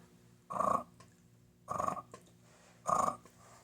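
Three short, breathy bursts of air, each about a quarter second long and evenly spaced, a person imitating a sandhill crane's call with a soft, rattling rush.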